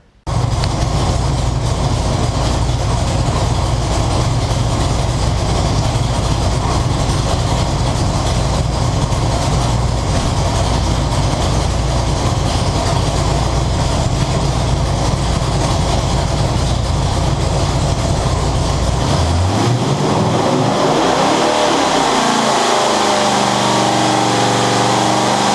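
A boat engine roars loud and steady on a dyno pull, a dense sustained rumble for about twenty seconds before the revs drop away and the note falls off, then it settles into a lower idle.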